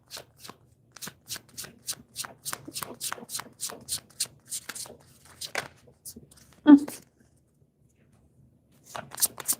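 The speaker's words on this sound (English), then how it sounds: "This is the way I shuffle" Close, crisp tarot card shuffling in a regular series of short riffles, then a brief thump and a pause before the shuffling starts again.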